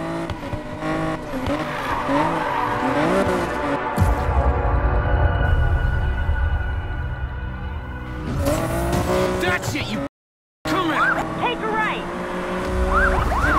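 GTR car racing in a video game during a police chase, engine roaring continuously with tire squeal and skids, a brief cut to silence near the end, with game dialogue and voices over the action.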